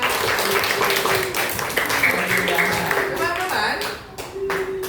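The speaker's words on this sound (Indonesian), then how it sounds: "Tepuk tangan untuk kita semua." Classroom of students clapping together in an Indonesian school lesson, a dense burst of hand claps under a teacher's voice, fading near the end before a final sharp clap.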